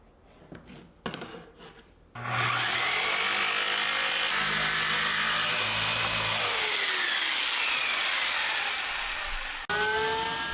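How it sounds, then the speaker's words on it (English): Jigsaw cutting the handle line of a wooden serving tray, a steady loud buzzing run of about seven seconds with brief tool starts before it and a sharp stop near the end. "followed it up with a jigsaw to get me a nice straight handle"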